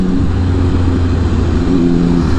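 A Triumph Street superbike's engine runs steadily up close in Indian traffic, a loud continuous low drone with a slight rise in pitch, no voices.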